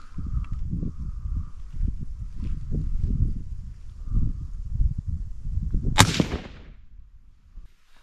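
One loud rifle shot from a tripod-mounted rifle fired outdoors, a sharp crack with a short ringing tail, following a stretch of wind and handling noise.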